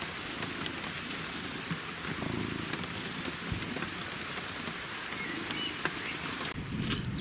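Steady rain patters and drips on a surface, a continuous fine crackle with scattered louder drops, no voices.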